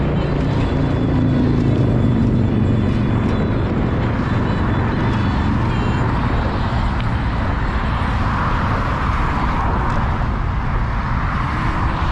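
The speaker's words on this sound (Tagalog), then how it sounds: "Kasi yung mga kotse dito tutulin eh" Cars rush past at speed beside the LA River bike path, a continuous loud roar of traffic and wind with passing swells, as heard from a moving bicycle.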